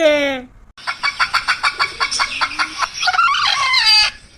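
A country chicken clucks in a quick, steady series of loud, close clucks after flying loose during slaughter, with a rooster's crow at the start and excited squawking toward the end.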